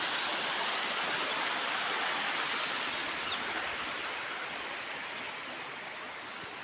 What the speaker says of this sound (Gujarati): પાણી તો જો વહેતું છે